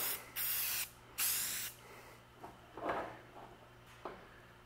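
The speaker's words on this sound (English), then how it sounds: "it's hard to get a light coat out of spray cans anymore" A spray can lays a light coat of paint on a 1986 GMC pickup during restoration, with two long hissing bursts followed by several shorter, quieter puffs and soft handling knocks, close and otherwise quiet.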